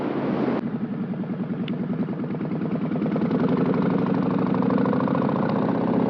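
Motorcycle engine droning steadily while riding along a scenic road in Virginia, a continuous close mid-pitched rumble with a faint rhythmic pulse and wind noise throughout.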